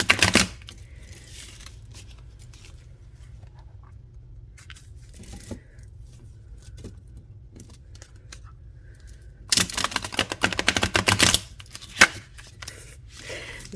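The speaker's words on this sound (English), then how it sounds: "Okay, let's shuffle it." Tarot card deck being shuffled by hand, with quiet scattered riffles and taps followed by a louder, dense burst of card shuffling near the end.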